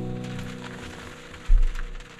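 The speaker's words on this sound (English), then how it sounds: "It is about sunrise and it is already pouring rain." Light rain patters steadily at sunrise on a fall truck camping trip, a soft continuous hiss with a low thump partway through and no talking.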